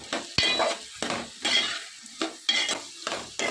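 Prawn curry being stirred in a pan after turmeric and salt go in, heard as a series of scraping, wet stirring strokes about every half second, close and fairly quiet, with no talking.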